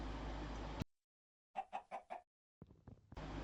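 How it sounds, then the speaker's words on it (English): Chickens in the Minecraft video game cluck in a quick burst of four evenly spaced calls, then a few softer clucks, set between moments of silence and a steady background hum. "it was feeding time for the chickens, and as you can see, they all came running towards me"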